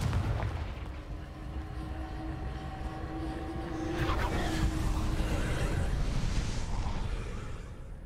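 The Confringo fire-blast spell goes off in the Hogwarts Legacy video game: a broad, rumbling blast swells midway and rolls on loudly over a low droning background.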